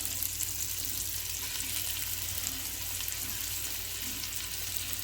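Green onion and carrot sizzle in heated avocado oil at the start of a potato cheese soup, a loud, continuous frying hiss with a low steady hum beneath it and no voices.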